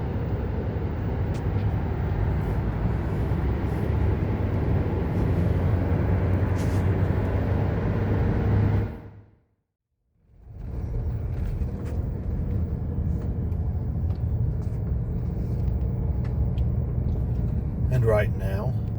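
A car driving along a road in Pisgah National Forest, a steady close interior road rumble that fades to near silence for a moment midway, then resumes with a faint voice near the end.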